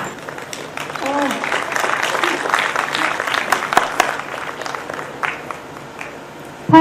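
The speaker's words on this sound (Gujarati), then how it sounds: "ફરી એકવાર તાળીઓના ગડગડાટ સાથે આપણે નાટકની ટીમને વિદાય આપીશું" Audience applause at a stage event in Bagsara after a drama team's performance, a broad, steady patter of many hands running several seconds, with speech mixed in and the clapping thinning toward the end.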